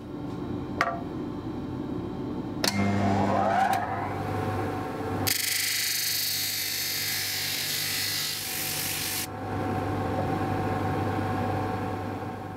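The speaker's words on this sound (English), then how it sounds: "So I think what I need to do is go to the disc sander and we'll just bring this edge down." A disc sander grinds down the edge of a resin and timber lamp piece. A motor hum builds, then a loud, hissing abrasive rush takes over for about four seconds before dropping back to a steady running drone.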